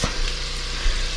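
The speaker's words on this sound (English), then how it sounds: "we are going to saute up all the veggies that I chopped up" Chopped vegetables sauteing in oil in a pan, giving a brief, close, steady sizzle with a couple of small knocks, no voices.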